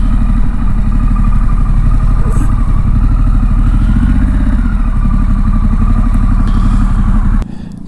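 Honda Pan America adventure motorcycle engine running steadily up close through a turn on a Welsh mountain road near the Llanberis Pass, a continuous low rumble with a light rev and wind, cutting off sharply near the end.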